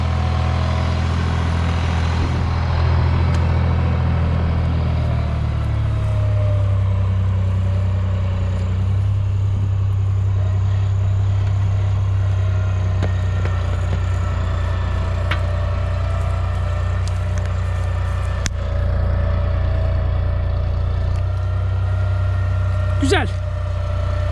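A 55-horsepower New Holland T580B tractor fitted with a grader blade works with a steady low diesel drone throughout, close and constant, with small clanks and a sharp squeal near the end.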